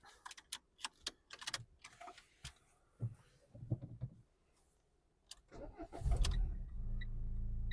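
A 2014-era-style Renault Fluence 1.5 dCi diesel sedan with 136,000 km starts up after a few scattered clicks and taps inside the cabin, its engine catching and settling into a steady, close, rumbling idle.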